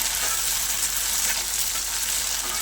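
Chopped ripe tomatoes stirred in a hot pan for green tomato bharta, giving a loud, continuous sizzle with soft scraping, no voices over it.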